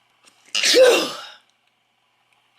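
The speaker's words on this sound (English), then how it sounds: "I really feel like I'm gonna sneeze right now." A single sharp sneeze bursts out close by, loud and breathy, then silence follows.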